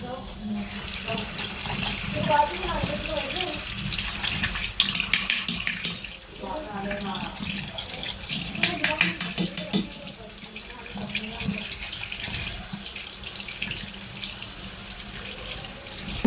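A washing machine filter rinsed under a running tap, water splashing and gushing steadily for a long stretch, with hands scrubbing and faint talk in the background.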